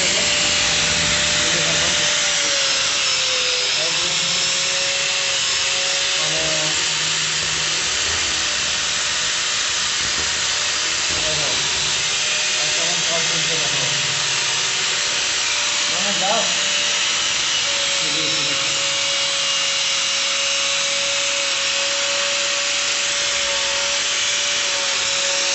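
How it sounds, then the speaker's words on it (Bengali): Steel rods being cut high on a building construction site, a steady loud grinding whine running throughout with slight shifts in pitch, under a constant wash of site noise. "আমরা তার উপরে রড কাটছি"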